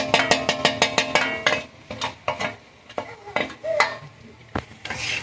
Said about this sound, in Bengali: এখন এটা ভালোভাবে মিক্স করে নিয়ে আমরা এটা কষাবো।